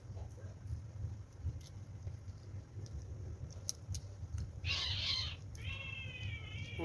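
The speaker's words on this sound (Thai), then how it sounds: "แมวกัดกันเลย" Cats fighting outdoors: a sharp, wavering yowl and a rising caterwaul break out near the end over a faint low background hum, fairly distant and quiet.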